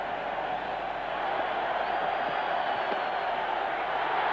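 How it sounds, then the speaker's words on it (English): A cricket stadium crowd at an India versus West Indies one-day international in 2002 roars steadily as a batsman reaches fifty, a dense sustained wash of cheering with no break. "The crowd is delirious."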